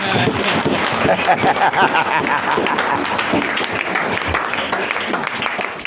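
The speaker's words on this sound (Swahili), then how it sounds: "Mpigie Yesu makofi mpaka hapo" A church congregation applauds during an evangelism service, with sustained loud clapping and voices and cheers mixed into the crowd noise.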